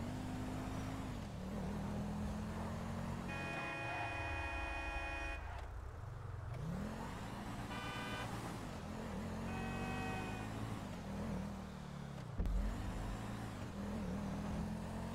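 Simulated Honda CG 125 motorcycle ridden in GTA 5, a steady engine drone rising and falling in pitch with the throttle, plus a few electronic horn-like tones and a brief thump near the end.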